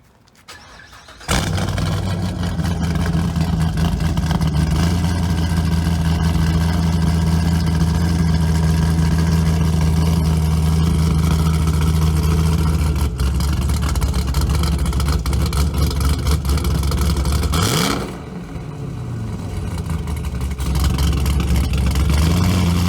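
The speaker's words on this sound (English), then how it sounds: "677 horsepower, naturally aspirated, all motor." A 677 hp naturally aspirated Hennessy car engine fires up loudly and settles into a steady, rumbling idle close by, then a sharp rev flares up near the end before the note drops and climbs again.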